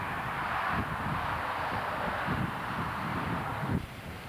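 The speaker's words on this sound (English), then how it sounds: "The wind is blowing real hard" Strong wind buffets the microphone on Fishing Bridge in Yellowstone in a steady rumbling roar with gusting surges, a louder thump near the end, no talking.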